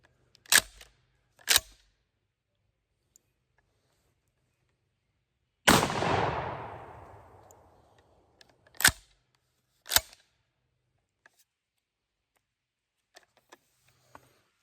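A budget shotgun being handled and fired: sharp mechanical clacks of the reload action, then one booming shot with a long decaying echo, followed by more crisp racking clicks in an otherwise quiet space.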